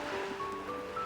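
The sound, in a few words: ocean waves heard over a call, Love and Deepspace video game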